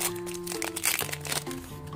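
Foil wrapping of an Ultraman card booster pack crinkles and tears open up close, a brief flurry of crackling rustles over faint background music.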